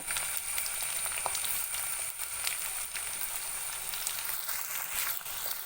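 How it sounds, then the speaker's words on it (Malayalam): Shallots and curry leaves sizzle steadily in a hot pan with oil, a constant close frying hiss with occasional crackles and faint stirring. "ഇതെല്ലാം കൂടി നമുക്കൊന്ന് വഴറ്റിയെടുക്കണം"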